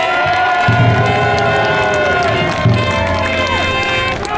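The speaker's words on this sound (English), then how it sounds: "I want you to give a hearty cheer and support for he of the red and black" A Renaissance faire joust crowd cheers for a knight, a loud, sustained roar of shouting and whooping voices from many people close by, with an announcer's voice rising over it.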